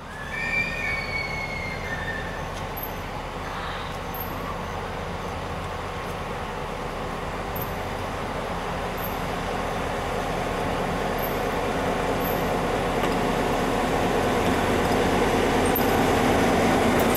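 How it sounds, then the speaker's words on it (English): Adrian & Blissfield Railroad dinner train rolling slowly at about five miles per hour in Lenawee County, a steady low rumble of cars with faint high wheel squeals and short tones, growing slightly louder toward the end, no voices. "The dinner train operated at the blistering speed of 5 miles per hour"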